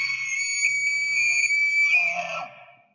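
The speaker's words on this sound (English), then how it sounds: "That is exactly what that elk sounds like." An elk call: one loud, sustained high whistling note, steady and clear, that breaks into a rougher, grunting tail before fading out.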